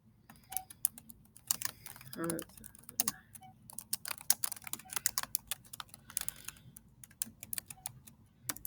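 Keys clack rapidly on a computer keyboard in uneven bursts, close and crisp, with a brief murmur of voice partway through.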